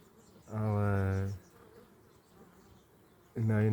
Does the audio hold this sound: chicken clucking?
no